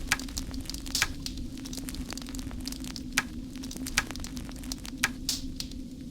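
Ribs sizzle steadily over a fire in the game Arx Fatalis, a constant frying hiss with a low hum beneath and repeated sharp crackles and pops spaced through the loop.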